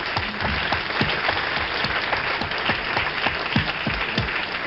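Studio audience applause on a 1965 New Year's Eve late-night TV talk show, a steady dense wash of many hands clapping for the full stretch, filling the room with no voices over it.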